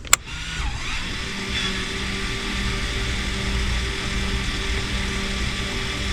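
An aftermarket electric parking brake motor in a vehicle's rear end straining steadily as it engages, a continuous mechanical whine and hum running for several seconds after a sharp click at the start, with no talking.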